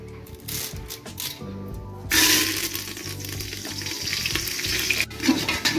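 Curry leaves dropped into hot mustard oil burst into a loud, crackling sizzle that jumps up sharply partway through and keeps spitting steadily and close by, with a brief dip near the end.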